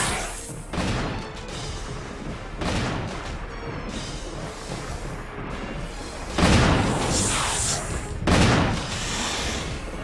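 Rapid gunfire from the survival-horror video game Resident Evil, dense repeated shots with two louder bursts near the end, surrounded by cluttered game noise.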